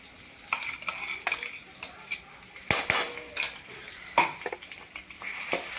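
Masala stirred and roasted in hot oil for dhaba-style shev bhaji, a steady close sizzle broken by repeated scrapes and metallic clinks of a spoon against the pan, with no voices.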